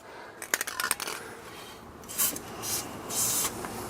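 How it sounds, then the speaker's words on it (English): A few short clicks and taps, then several bursts of aerosol penetrating lubricant spraying, hissing close by in quick succession with no talking, on a car's seized front control arm bolts. "Let's spray again."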